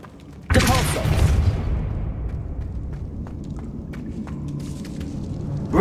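In Hogwarts Legacy, a Depulso spell bursts out with a sudden loud whooshing blast that rings and trails off into a low rumbling decay, a single close impact followed by quieter ambience.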